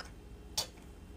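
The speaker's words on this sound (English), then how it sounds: "You hear it tick." A single crisp tick from a clock stands out sharply against a quiet, faintly humming room, with no one talking.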